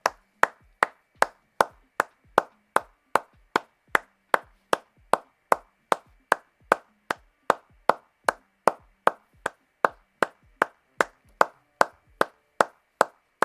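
A single pair of hands claps steadily on its own, about two sharp claps per second in an even rhythm, close and dry with no crowd or talk, sounding like one lone person applauding.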